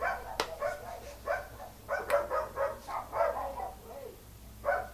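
Several dogs bark repeatedly in quick irregular bursts, moderately close, with a few sharp yips mixed in.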